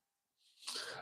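A single sneeze, close by: a short rising intake of breath followed by a sharp, breathy burst, with silence before it.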